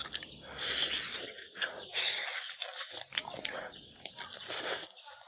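Crunchy cartilage of a braised pork knuckle being bitten and chewed, with moist crunching and tearing sounds close to the mouth for several seconds, broken by short pauses.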